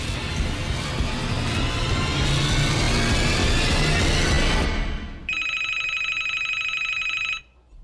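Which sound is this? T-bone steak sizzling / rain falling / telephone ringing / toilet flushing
telephone ringing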